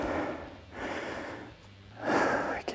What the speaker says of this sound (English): You can hear me breathing good.